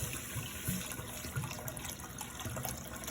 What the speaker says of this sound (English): I'm adding some water into it